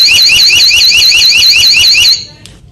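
A type 2 high-frequency alarm tone from an HDCVI three-in-one security camera warbles loudly in rapid repeating sweeps for about two seconds, then cuts off abruptly.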